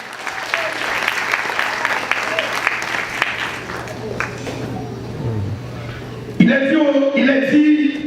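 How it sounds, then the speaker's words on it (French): A church congregation applauding during a service, a dense sustained wash of clapping that thins out, then gives way to a louder tonal passage of voices or music. "Applaudis mon Dieu pour parole de ma frère."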